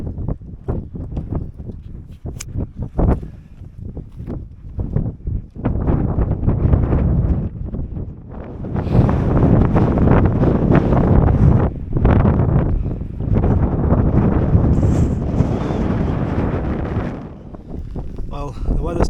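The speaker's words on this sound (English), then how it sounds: "It's slashing it down, rainy, windy, sideways rain pretty much." Gusting wind and driving sideways rain on an open Lake District hillside above Patterdale, roaring close to the microphone and swelling louder partway through, with a voice heard early on.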